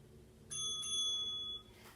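A single bright bell rings out clearly during a core exercise class, with one quick strike followed by a second. Its tone sustains for about a second and then fades, alone in a quiet room.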